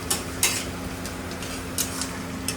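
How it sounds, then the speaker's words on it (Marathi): Onion and oil heating in a pan for egg bhurji in a home kitchen, stirred with a utensil: steady low sizzle with a few sharp scraping clinks of the spoon against the pan. "आता कांदा टाकला आहे तेल टाकलं आहे गरम करून हिलवणं चालू आहे"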